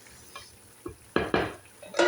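A vegetarian curry being cooked in a pan for eating with roti, with a few short scraping stir strokes and soft sizzles at irregular intervals, close by and fairly quiet, with no talking.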